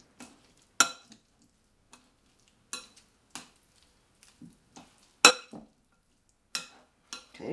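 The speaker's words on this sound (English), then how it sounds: "We'll take our other spoon to stir it up in there." A spoon stirring mayonnaise into gluten-free potato salad in a bowl gives a string of sharp scattered clinks and scrapes, close and fairly quiet, separated by gaps.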